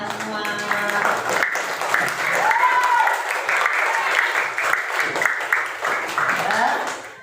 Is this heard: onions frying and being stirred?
no